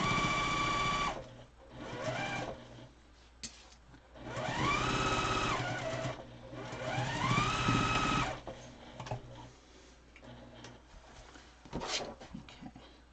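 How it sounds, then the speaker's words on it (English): A sewing machine stitches down a fabric face mask in several bursts of quick mechanical whirring, each speeding up and then stopping, with quieter handling sounds between runs. "Now I'm going to sew this one down"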